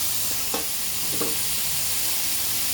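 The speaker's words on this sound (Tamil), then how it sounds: "அப்படி வதக்கிட்டே இருக்கணும்" Onions sautéing for homemade kothu parotta: a dense, constant sizzle and hiss close by, with two soft scrapes of stirring partway through.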